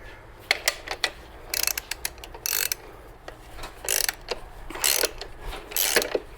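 A ratchet wrench works loose 12 mm bolts on a motorcycle's motor mounts and suspension, giving repeated bursts of quick, close clicking separated by brief pauses, with no talk.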